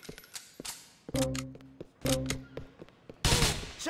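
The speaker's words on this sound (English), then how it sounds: "We're being shot at!" Gunfire in Grand Theft Auto IV comes as several separate sharp bursts of shots, loud and close, spaced by short pauses and ending in a heavier crashing volley.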